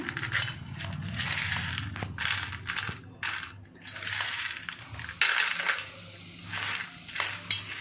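Well-dried turmeric roots rattle and clatter together in irregular bursts, hard woody knocks shaken close by, with brief pauses between.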